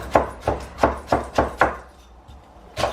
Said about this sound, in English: These are to be finely chopped.